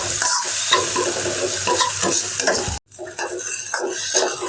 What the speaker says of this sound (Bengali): মশলাটা আপনারা ভালো করে একটু কষিয়ে নেবেন, না তো আদা রসুনের কাঁচা গন্ধটা আপনার যাবে না।